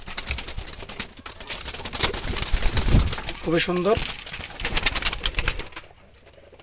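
Jalali wild pigeons at a pigeon farm give a short, rolling coo near the middle, amid flapping wings and clattering, while someone speaks briefly nearby.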